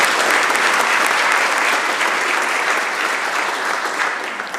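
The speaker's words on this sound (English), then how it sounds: "Will the House please join me in applauding the volunteers in our" Members of a provincial legislative House applaud volunteers, a sustained, even roar of clapping from many hands, loud and continuous from start to finish.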